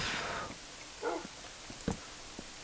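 A dog in Minecraft gives a few short, separate yips and whimpers, faint and spaced out against a quiet background.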